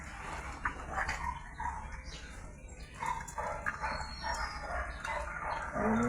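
Small month-old puppies yip and bark in a busy, overlapping chorus close by, the sharp little barks coming steadily through the whole stretch.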